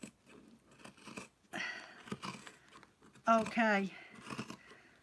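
Scissors cut through the edging of a handwoven garment made from handspun yarn, giving a few crisp snips between stretches of someone talking nearby.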